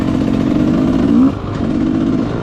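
An enduro motorcycle engine drones loud and close while riding on an abandoned motocross track, a steady buzzing note that climbs briefly then drops back to a lower hum.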